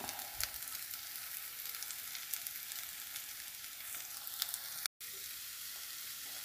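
Cabbage and leeks sizzle in a clay pot while noodles are being made, a steady, close, crackling fry that carries on throughout with one very brief dropout.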